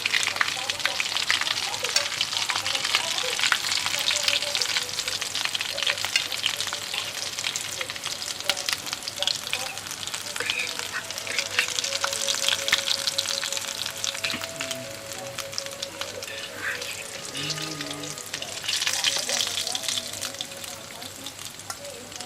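Egg and potato chops deep-frying in hot oil, a dense continuous sizzle and bubbling close by with occasional stirring clinks, no clear speech over it.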